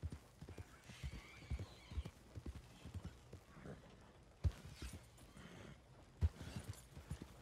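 Faint, quiet hoofbeats of a horse in Red Dead Online clop along in an uneven rhythm, with occasional sharper thuds and soft swishing in between.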